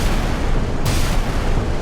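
Warships launching missiles in the naval game Sea Power, a continuous loud roaring burst of launch noise with a sharper hiss partway through, close and alone without talk.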